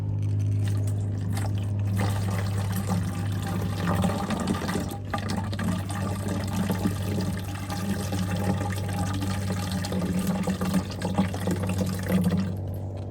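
Diluted garlic-based swamp water fertilizer, thick and full of suspended solids, poured steadily into a container as a continuous close gurgling, filling flow for over ten seconds, no voices.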